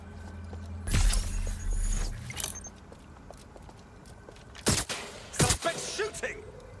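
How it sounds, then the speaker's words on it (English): Gunfire in Watch Dogs: Legion, a few sharp loud cracks and short bursts spaced across the moment, some rattling and clattering in between, with faint voices in the background. "Suspect shooting!"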